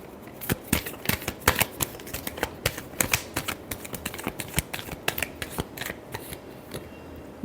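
Tarot cards are shuffled by hand close up: a quick, irregular run of crisp riffling clicks and flicks that keeps going for several seconds without any talking.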